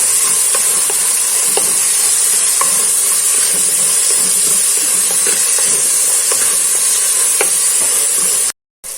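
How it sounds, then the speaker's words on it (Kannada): Tomatoes being stirred into a hot masala in a pan, for a Mangalore-style mackerel pulimunchi, produce a loud, dense sizzle with scattered scraping strokes of a spoon. The sound cuts off abruptly near the end. "ಟೊಮೆಟೊ ಕೂಡ ಇಲ್ಲಿ ಹಾಕಿ ಈಗ ಸ್ವಲ್ಪ ಕೈ ಆಡಿಸುವ"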